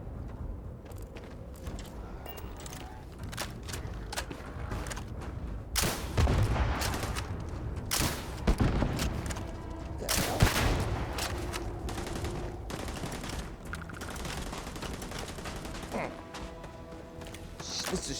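Gunfire in the video game Starfield Shattered Space: repeated sharp gunshots and fusillade bursts with occasional heavier booms, loud and ongoing amid game ambience and scattered voices.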